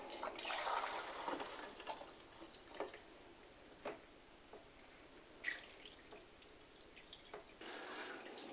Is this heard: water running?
yes